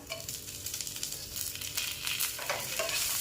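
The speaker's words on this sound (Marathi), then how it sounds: "त्यातच मी आता घेतलेला लसूण टाकून घेते आठ ते नऊ पाकळ्या आणि कढीपत्ता" Eight or nine garlic cloves and curry leaves sauté in hot oil in a pan, giving a steady, fairly loud sizzle with occasional scraping stir strokes.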